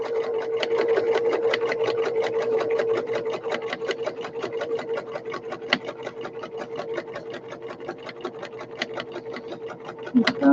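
Domestic sewing machine stitching fabric for a machine cover, a close, steady run of rapid even stitches with a low motor hum that keeps pace for about ten seconds before slowing near the end.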